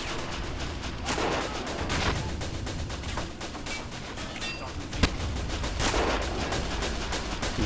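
Rapid rifle and machine-gun fire in a WWI trench battle game, dense overlapping shots and bursts continuing throughout with one sharp crack standing out, under faint voices.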